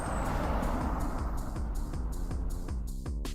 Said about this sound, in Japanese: トラック、